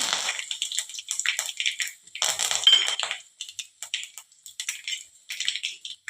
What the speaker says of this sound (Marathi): तेल छान कडकडीत गरम झालं की गॅस कमी करायचा आणि त्यात मोहरी घालायची मग जिरे घालायचे